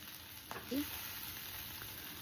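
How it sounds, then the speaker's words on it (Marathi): Finely chopped ingredients with coconut being stirred and sautéed in a pan for a matar paneer masala, giving a faint, steady sizzle with a brief scrape of stirring, close and quiet, with no talk. "सर्व व्यवस्थित असं परतून घ्यायचं आहे."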